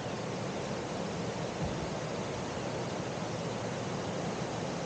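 Water pouring off a drop under a mill into a river below, a steady broadband rush heard close and loud throughout with no speech over it.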